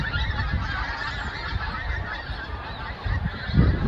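A flock of geese honks continuously across an outdoor golf course, a dense, steady chorus of calls at moderate distance, with no talking.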